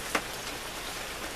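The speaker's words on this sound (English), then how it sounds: "See, we know this rain." Steady rain falls, a continuous soft, even patter on surfaces with one brief louder drop near the start and no voices.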